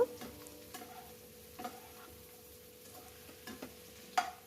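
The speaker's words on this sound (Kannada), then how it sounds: "ಸ್ವಲ್ಪ ಚೆನ್ನಾಗಿ ಫ್ರೈ ಮಾಡ್ಕೊಳ್ಳಿ." Bitter gourd fries gently in a pan, a faint soft sizzle under occasional sharp clicks and spoon taps against the pan, with a steady low hum in the background.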